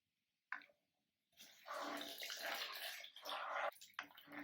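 Water is poured into a pan of wheat halwa, a short splash followed by a steady close rush and gurgle of liquid hitting the hot mixture, with no one talking.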